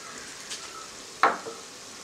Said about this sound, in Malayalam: മുളക് പൊടി എന്നിവ ചേർത്ത് നല്ലവണ്ണം ഒന്ന് വഴറ്റിയെടുക്കണം